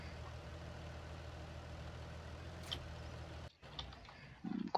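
A tractor engine idles steadily in Farming Simulator 19, a low, even drone that runs for a few seconds before cutting off abruptly, followed by faint clicks and brief noise.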